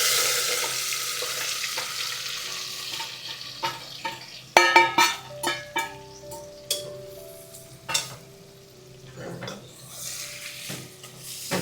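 Stuffed brinjals sizzle loudly in hot oil with cumin and asafoetida, then a spoon stirs the pan in a series of sharp scraping clacks over continuous frying hiss, close and alone.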